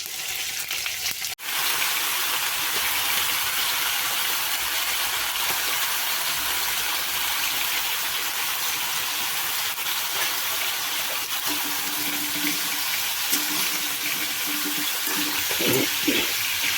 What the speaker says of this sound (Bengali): রান্নার যে অরিজিনাল একটা সোমবার দেওয়ার আওয়াজ সে আওয়াজটা তোমাদের শোনাচ্ছি